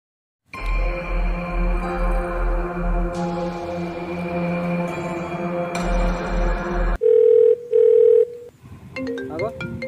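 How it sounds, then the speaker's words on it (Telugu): An outgoing phone call gives a steady electronic tone that rises and falls in regular pulses for several seconds, then shifts to short repeated beeps and brief higher chirps, loud and close with no talking. "నేను ఒకసారి రఘుమామకు ఫోన్ చేస్తా, ఆయన వచ్చి మనల్ని తీసుకొని పోతాడు."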